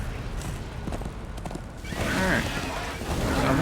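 A horse whinnies in the video game Darksiders 2. Hoof clops and game ambience run through the first half, then a loud neigh rises and wavers over the continuing background.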